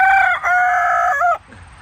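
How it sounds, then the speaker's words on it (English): A backyard rooster crowing close by: one loud, strained call with a short break near the start, held for just over a second, then cut off into quiet yard noise. "Got a rooster, beautiful rooster."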